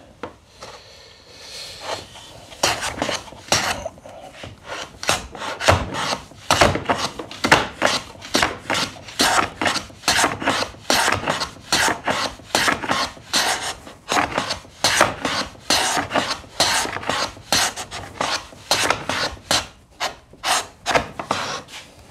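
Hand plane taking deep cuts along a jointed wooden board edge, a long run of regular rasping strokes, each a crisp swish of shavings peeling off, steady rhythm, close and fairly loud, no talking.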